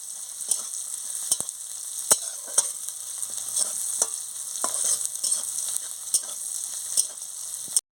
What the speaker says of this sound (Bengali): একটু নুন দিয়ে দিচ্ছি, পেঁয়াজটা ভালো করে ভাজা হয়ে যাবে